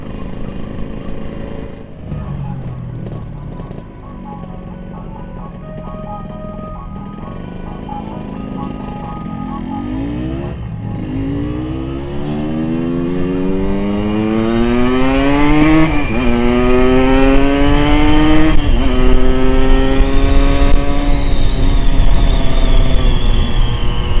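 A Kawasaki Ninja 150R motorcycle engine idles and then revs repeatedly, its pitch sweeping up and down and climbing to a loud sustained high-rev whine near the end, with no talk.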